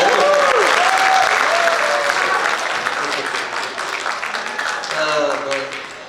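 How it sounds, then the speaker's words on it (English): Audience at a high school symphonic band spring concert breaks into sustained applause, loud at first and then thinning out, with a few voices calling out over the clapping. "You can applaud."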